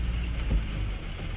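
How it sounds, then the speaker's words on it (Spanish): Heavy rain during a typhoon season downpour, a steady dense wash of falling water heard from inside a vehicle, constant and moderately loud with no talk. "está lloviendo bastante"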